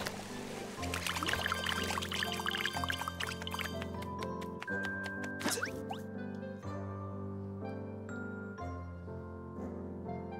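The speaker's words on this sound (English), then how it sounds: "Oh, it's electric water!" Electrified water in the video game Tinykin gives a sustained bubbling, dripping game effect over a musical, tonal background, with splashy bursts early on and softer drips later.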